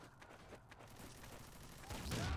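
Rapid bursts of video game gunfire crackle with booming explosions, growing louder toward the end, with faint voices underneath.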